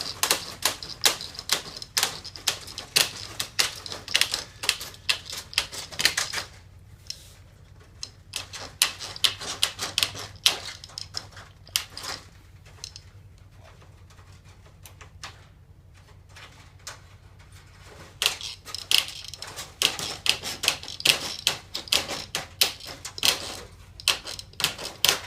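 Plastic being snipped into a circle for a homemade minnow trap, a long run of rapid, crisp clicking cuts close to the mic, pausing for a stretch in the middle before resuming.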